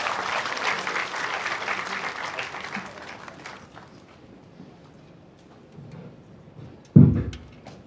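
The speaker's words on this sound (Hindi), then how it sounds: "आदरणीय श्री अनिल रतूड़ी जी को उनके संबोधन हेतु तालियों के साथ स्वागत।" An audience applauds at a book launch ceremony with the Uttarakhand Chief Minister, the clapping loud and dense at first, then thinning and fading over several seconds before a single low thump near the end.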